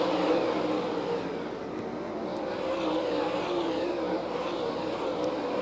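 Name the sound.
race cars driving on a track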